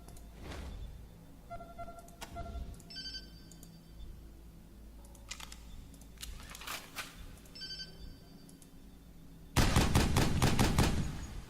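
Gunfire in the video game Wasteland 2 comes as scattered sharp shots and short bursts among electronic beeps and tones, ending in a loud, dense burst of rapid fire.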